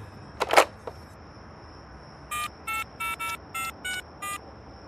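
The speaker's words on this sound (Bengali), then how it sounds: "জয়ন্ত বাগচির নাম্বার ডায়াল করলেন।" A landline telephone number dialed as a radio drama effect: after a receiver clatter near the start, a series of seven short electronic keypad tones sounds in an even rhythm, clear and close, with no talk.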